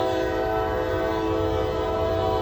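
A Norfolk Southern freight train in Gaffney, South Carolina sounds a sustained, steady horn blast over a low rumble of rolling cars, loud and continuous with no talk.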